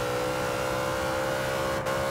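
A Dodge Charger R/T engine in Forza Horizon 2 holds a steady, droning high-rev tone, close and continuous, with a brief dip near the end and no talking.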